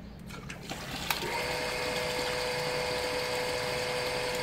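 An automatic water pump fitted with a pressure switch and air tank hums steadily with a tap fully open, starting after a faint click and settling into an even motor whine with running water underneath.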